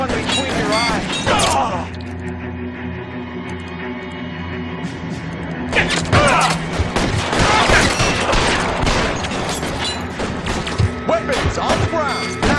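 Gunfire in the video game L.A. Noire comes as several sharp bursts and rapid shots, first in a short cluster, then a pause under a low hum, then a dense volley of loud reports mixed with impacts and voices.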